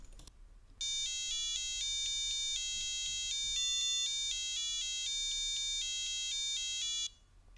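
An electronic buzzer beeps out the Mary Had a Little Lamb melody in clear, steady tones, note by note with short gaps, loud and alone.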